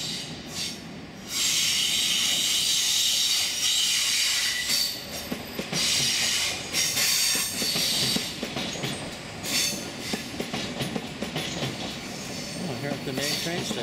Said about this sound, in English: here comes some real trains